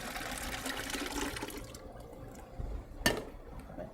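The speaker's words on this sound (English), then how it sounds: "So I can pour it more easily in here." Liquid ice cream mix pours into a volume measuring container in a kitchen, a continuous splashing trickle that thins out, followed by a single sharp knock near the end.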